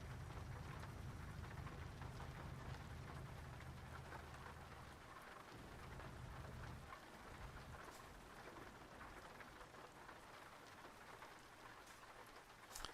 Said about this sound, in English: As long as this bloody rain stops.